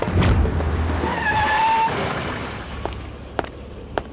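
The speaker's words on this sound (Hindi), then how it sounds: "कोई गाड़ी तो आ रही है।" A car nears on a quiet road, a low engine rumble building with a brief whining tone and some tyre noise, then fading to softer background with a few sharp clicks.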